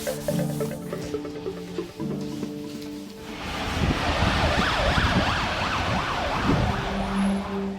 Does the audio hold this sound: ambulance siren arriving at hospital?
yes